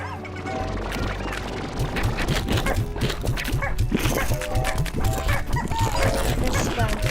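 Chickens cluck and a rooster crows in the farming game Slime Rancher, repeated short calls over a dense, busy layer of continuous game sound.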